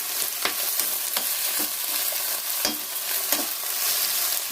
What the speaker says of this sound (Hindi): और अच्छे से चला के भून लेते।